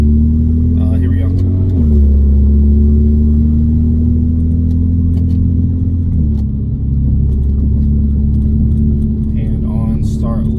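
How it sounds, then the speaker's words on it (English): A car on full E85 fuel idles with a deep, steady rumble and builds revs in a fourth-gear pull, the engine tone stepping up twice in a loud, close, continuous drone, with faint background sounds. "We're gonna do the fourth gear pull on full E85."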